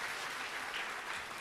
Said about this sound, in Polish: wielkie brawa dla Emilii